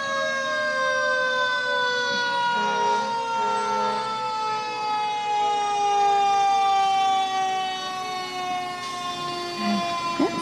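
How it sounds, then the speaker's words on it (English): Fire truck sirens wail steadily in a Memorial Day parade in Royal Oak, loud and sustained throughout, with several overlapping siren tones sweeping slowly. "Well, that sounds like the fire trucks."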